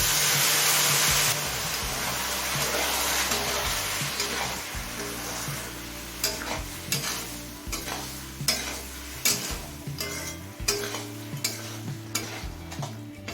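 Ground spices (Kashmiri chili, cumin, coriander) with a splash of water fry on high flame for ghugni, a loud hiss at first giving way to repeated scraping stirs and clatter against the pan.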